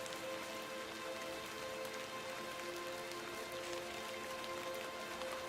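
Steady rain falls in the video game Hob Barrow, a constant even patter over a faint tonal hum, with no talking.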